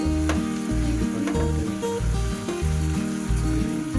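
Crab curry masala with chilli powder sizzles loudly and continuously in a hot pan, with the rhythmic scrape and clatter of stirring throughout.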